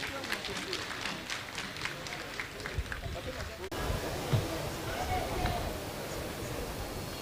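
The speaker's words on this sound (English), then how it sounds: "A round of applause, please." Applause and crowd noise at a guard of honour parade for Otumfuo Osei Tutu II, a steady wash of clapping and murmuring from a large outdoor audience, broad and fairly loud throughout, with a brief shift in texture partway.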